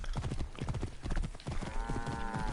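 Horse hooves gallop in Assassin's Creed Origins, a steady rapid clip-clop close and loud throughout, with a brief whinny-like tone near the end.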